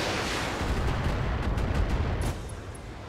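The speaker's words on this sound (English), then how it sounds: "Just fire the MMLs." MML missile launchers fire in a mech combat video game, a dense, loud rumbling barrage of overlapping blasts that fades slightly toward the end.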